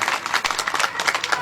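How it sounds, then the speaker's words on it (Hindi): An audience at a kavi sammelan, a Hindi poetry gathering, claps in honour of a poet: brisk, irregular hand claps from many people, close and lively throughout. "उनके सम्मान में दुगुनी ताली आप पूरा सदन बजाए"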